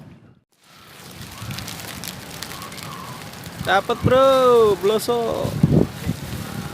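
Rain falls steadily during a fishing trip at Setu Babakan lake, a constant hiss of drops beneath someone talking loudly, and the patter runs on under and between his words.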